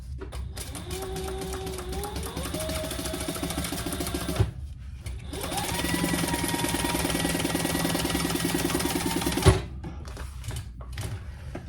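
An industrial sewing machine stitching waxed canvas runs in two steady, loud bursts of rapid mechanical stitching with a brief pause between, close up and without speech.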